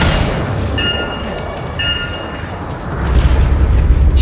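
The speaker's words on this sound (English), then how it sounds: "I think the explosion destabilized the foundry" An in-game explosive detonation in the Anthem video game sets off a deep, heavy boom with a rumbling low-end tail, loud and close, with no talking over it.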